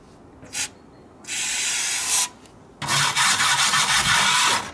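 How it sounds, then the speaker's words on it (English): Brake cleaner hisses in bursts from a spray can onto the brake parts and a new brake rotor of a Volvo, followed by a long, steady rubbing spray, close up, with no talking. "Clean everything with brake cleaning, inclusive the new brake rotor."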